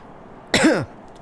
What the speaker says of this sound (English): I literally just hit to unpause the video and immediately had to cough